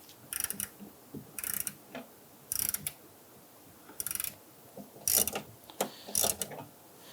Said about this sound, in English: I'm going to go ahead and put our ratchet on there and let's go ahead and snug that down.